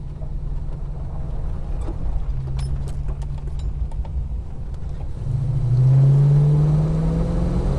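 Holden HK car engine pulling hard through the gears toward red line, a steady close rumble that swells into a rising rev near the end, heard from inside the car.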